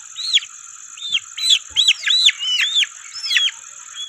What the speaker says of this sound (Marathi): आता हे मादी पक्षी आहे.